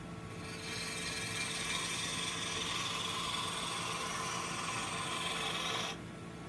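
A woodturning gouge makes slicing cuts on a spinning lathe workpiece, producing a steady, close rasping hiss that runs for about five seconds before cutting off abruptly.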